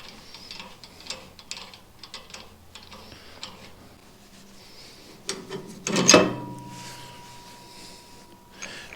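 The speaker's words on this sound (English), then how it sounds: "let's remove this bolt" A bolt is removed on a hay baler during year-end maintenance: a series of soft, close ratcheting ticks and metallic clicks, then a louder clanking scrape of metal near the end.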